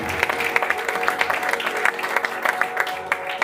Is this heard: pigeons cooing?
no